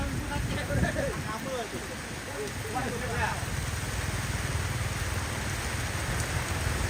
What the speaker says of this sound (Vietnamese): Rồi đang mưa to anh ạ.